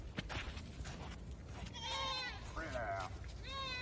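Goats bleating on a farm in winter, several clear, wavering bleats close by in the second half, following some rustling and handling noises.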